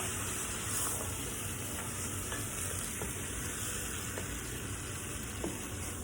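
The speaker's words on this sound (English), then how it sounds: "add the salsa that I made" Homemade green salsa pours into a hot pan for chilaquiles verdes, giving a steady, close sizzle and frying hiss with faint stirring scrapes throughout.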